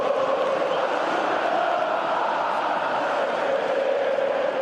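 Vasco da Gama supporters celebrate in a football stadium, a dense, unbroken roar of crowd noise with shouting voices blended into a steady wall of sound that holds at the same level throughout.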